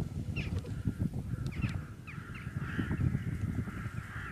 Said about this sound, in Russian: Я сколько живу в этой местности, никогда не видал столько грачей.